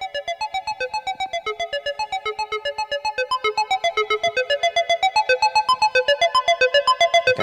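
Glassy analog through-zero FM synth patch with a pinged, natural decay, playing a fast run of bright bell-like tones in a steady pulsing rhythm, loud and alone throughout.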